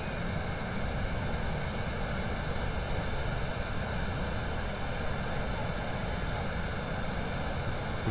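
A jet aircraft in Kerbal Space Program roars with a steady, dense broadband engine drone that holds unchanged and loud throughout, with no voices.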